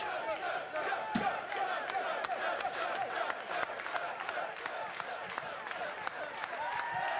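Wrestling arena crowd at a televised singles match roaring in sustained support of wrestler Joey, a dense wash of cheers and shouts with scattered sharp claps and whistles throughout.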